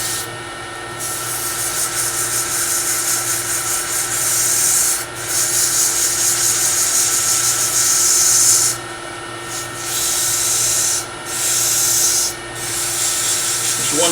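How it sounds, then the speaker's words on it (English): Close, loud back-and-forth sanding of a small wooden miniature piece at a steady rasping rhythm, with a few brief pauses between passes. "So now I'm going to sand it."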